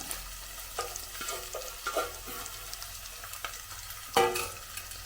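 Garlic, ginger and green chilies sizzle in a pan for lemon pickle, with a steady frying hiss and occasional spoon scrapes and stirs, close and moderately loud.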